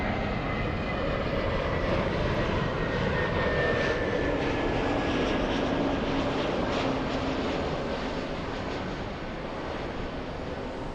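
A Delta airliner arriving from Miami roars steadily as it comes in to land, a loud continuous broadband jet rumble with a faint drifting whine, heard alone throughout.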